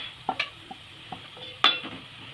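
Turmeric, red chilli powder and other spices sautéed in oil in a pan for spicy misal, with a few sharp scraping stirs over a low, faint sizzle, close by and without speech.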